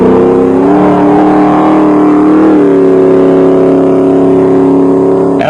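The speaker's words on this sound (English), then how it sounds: "raced the Jeep Cherokee around the stage in his unmistakable Cousier style." Jeep Cherokee rally car racing hard along a gravel stage of an off-road rally in South Africa, its engine droning loud and steady with pitch shifts as it changes gear, very close and heavily saturated.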